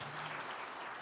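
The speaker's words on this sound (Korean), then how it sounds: "수고한 우리 이강준 팀장 그리고 많은 청년들을 위해서 다시 한번 큰 박수 부탁드립니다." Steady applause from a church congregation at a summer Sunday school thanksgiving service, a dense, even clapping that fills the whole moment.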